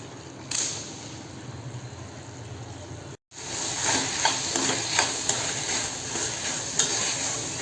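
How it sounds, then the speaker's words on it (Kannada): Fig vegetable palya stirred in a pan over a slow flame, giving a steady sizzle with scraping stir strokes throughout and a brief pause partway, with no talking. "ಒಂದು ಸತಿ ತಿರುಗಿಸ್ಬೇಕಾಗುತ್ತೆ. ಹಿಂಗೆ ಸ್ಲೋ ಫ್ಲೇಮಲ್ಲಿ ಬೇಯಬೇಕು."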